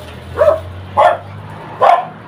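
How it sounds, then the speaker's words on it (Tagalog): A dog barks three times at a steady pace, fairly close, over a low background hum; no talking. "Ingay ng mga aso."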